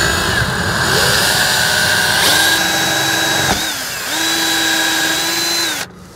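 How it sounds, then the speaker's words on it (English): Power drill boring holes while installing a Dinghy Butler davit on a boat, a steady high whine with two long sustained runs, a brief dip between them, and a sharp stop at the end, close and loud. "and then drill your holes."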